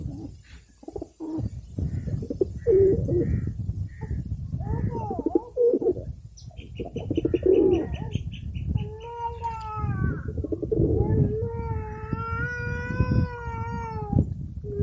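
Pigeons coo in soft repeated rumbling phrases nearby, mixed with loud drawn-out cat meows and caterwauling later on, and a voice speaks briefly.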